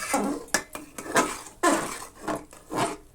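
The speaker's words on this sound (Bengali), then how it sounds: "সব কিছুকে আবার ভালো করে আমি মিশিয়ে নিচ্ছি" Vegetables with spinach and green chilies for a vegetarian khichuri are stirred in a pot, about six quick, close scraping strokes of a spoon against the metal in an uneven rhythm.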